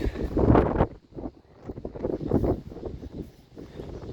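Gusty wind buffets the microphone in uneven, rumbling bursts, loudest at the start, with no voices.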